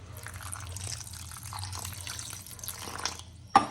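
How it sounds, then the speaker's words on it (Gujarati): Water pours into semolina batter for instant rava pudla, a soft close trickle and splash in a quiet kitchen, ending with a brief clink. "હવે આપણે બીજું પાણી ઉમેરી દઈએ."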